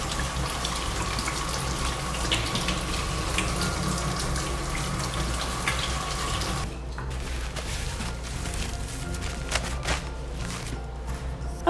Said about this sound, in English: our first step is washing our hands